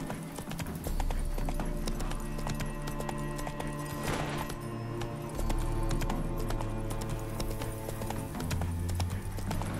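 Steady clip-clop of horse hooves trotting at a regular pace in The Witcher 3: Hearts of Stone, heard over background music.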